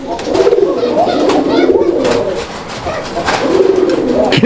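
Old-breed red Golla pigeon cooing in repeated rolling phrases, close and loud, with short pauses between bouts and no talking.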